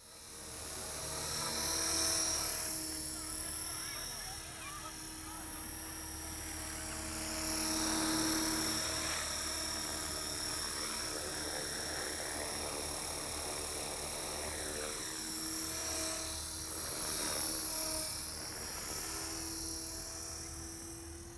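A model helicopter's rotor and engine during a normal descent with raised throttle trim, a steady high whine with rotor hum held at constant pitch throughout, loud and close, with no talk.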